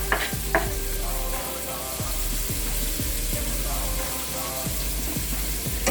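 Chopped pepper, onion and garlic sizzle steadily in hot oil for a Cuban sofrito, with a spoon scraping and stirring through the pan in regular strokes; no talking, just close, constant frying.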